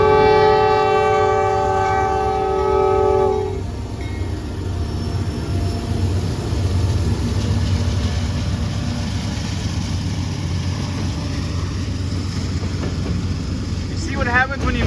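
A northbound freight train rolls past at close range, its horn sounding in long loud blasts at the start before the steady rumble and clatter of wagons carries on alone.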